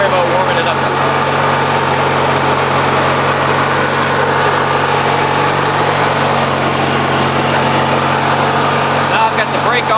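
A 1993 MTD Yard Machines lawn mower engine holds a steady low idle, a constant close buzzing hum with no change in pitch throughout.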